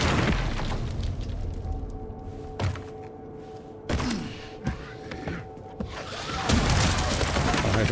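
Gunshots in the survival-horror game Resident Evil Requiem, a few sharp booming cracks spaced across a busy in-game ambience, each fairly loud against a constant background rumble.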